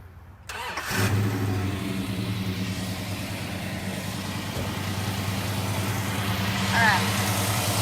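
A 1968 Dodge Charger R/T V8 with an Edelbrock carburetor fires up about a second in, then settles into a steady, loud idle with a rev swell near the end, while voices talk over it.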